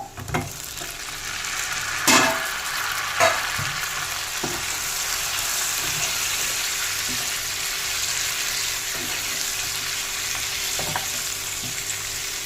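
Chicken pieces for Japan chicken sizzle and fry steadily in a pan, a loud, close hiss running throughout, with occasional knocks and scrapes of stirring, including a sharper clatter around two seconds.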